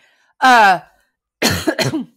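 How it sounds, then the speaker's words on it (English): Two close coughs, the first a single harsh bark, the second a quick pair of rougher coughs after a short pause, loud and near. "I feel like I need to cough"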